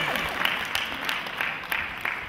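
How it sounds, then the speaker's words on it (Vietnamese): Steady applause from an audience welcoming a singer onstage at a memorial event, a dense wash of clapping with a few sharper claps standing out, sustained throughout. "xin mời tất cả quý vị chúng ta cùng dành một tràng pháo tay thật nồng nhiệt"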